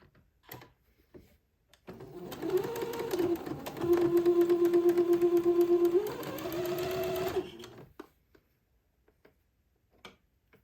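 A sewing machine stitches the second pass of a French seam on a little white dress, running in a fast even whir for about six seconds after a short start, then stopping, with quiet handling before and after.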